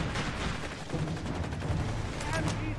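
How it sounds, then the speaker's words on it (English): Machine gun fire crackles in rapid bursts across a World War II battle in Company of Heroes 3, under in-game voices and dense battlefield noise. "Taking MG fire here!"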